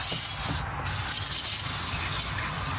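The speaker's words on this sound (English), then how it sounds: "I'm just going to spray this down pretty liberally" Aerosol cleaner sprayed liberally onto Corvette Tuned Port Injection cylinder heads gives a close, steady hiss, broken by a brief pause near the start.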